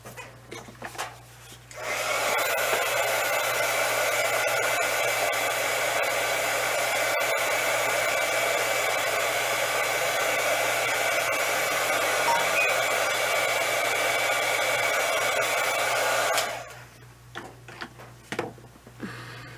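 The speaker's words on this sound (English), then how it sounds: "then I'm going to put the heat tool." A craft heat tool blows steadily on a painted ornament, a loud, constant whooshing fan hum lasting about fourteen seconds, with faint handling noises just before it starts and after it stops.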